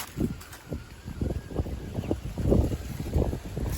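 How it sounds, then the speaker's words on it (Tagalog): Wind gusts buffet the microphone in a steady low rumble, rising and falling throughout with no talking, outdoors among mulberry trees and sunflowers. "Mahangin ngayon, bigla nag-presko"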